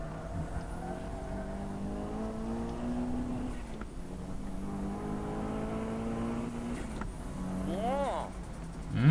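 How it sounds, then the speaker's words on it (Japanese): A tuned Nissan S13 engine pulls hard with a steady, rising drone through the gears, then snaps into a sharp, loud rev at the end; voices talk over it. "エンジンのレスポンス良くなったね。"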